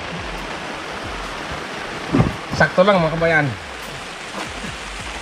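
Rain pours onto a car shelter tent, a steady broadband hiss that continues throughout, while someone speaks briefly over it in the middle.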